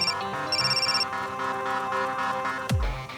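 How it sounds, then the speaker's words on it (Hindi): A mobile phone ringtone plays in a hospital setting, a melodic repeating electronic tune under background music, ending with a sharp swooping effect. "अच्छा क्या मेरा फोन उठा लिया, वरना फिर से करना पड़ता।"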